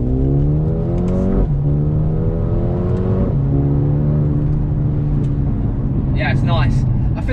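A Mercedes-AMG A35 engine pulls hard through several rising revs, its pitch dropping sharply at each gear change, with a brief burst of crackling exhaust pops near the end, heard close under a faint voice.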